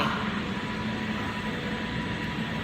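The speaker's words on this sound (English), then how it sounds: "Trains go in and out of here constantly." A steady rumbling roar of a train at a station in Switzerland fills the air, with a constant low hum and no clear breaks.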